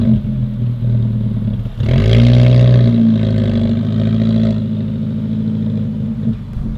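A 2015 Alfa Romeo 4C pulls away with a rising engine note, holding a steady drone of acceleration before easing off, heard from close up with no talking.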